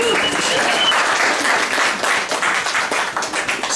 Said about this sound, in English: And a final round of applause for our musicians